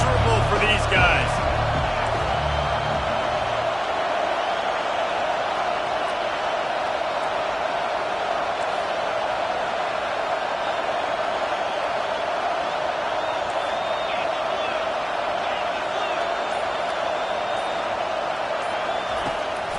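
Stadium crowd noise in the College Football 25 video game: a steady, dense roar of many voices that holds at an even level for the whole stretch, with a brief muffled thumping near the start.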